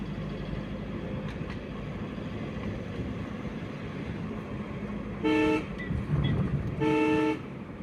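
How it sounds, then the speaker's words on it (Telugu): Vehicle horns on the Rapur ghat road sound in two loud, sustained honks over a steady engine rumble, fairly close. "మనం కొడతాము, వేరే అతను కూడా హారన్ కొడతాము"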